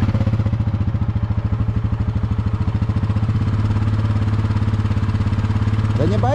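Buggy engine running after being started, a loud, close, rapid chugging idle with even pulsing throughout, briefly rising at the end.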